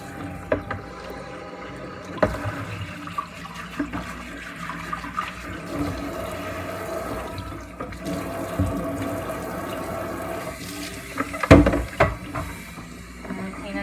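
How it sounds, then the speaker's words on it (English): Water runs and gushes through a Dyson Animal DC28 vacuum cleaner being rinsed out, a close, splashy flow with gurgles and sharper spurts, one louder surge near the end. "just let the water run through, and you'll see like gray water, like almost black water coming out when you do this"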